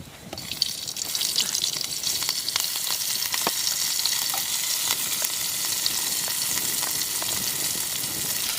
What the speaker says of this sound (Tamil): இப்போ நெய்யும் காஞ்சிருச்சு இப்போ வந்து பச்சை மிளகாய் வந்து லைட்டாக தூவி விட்டுக்கலாம்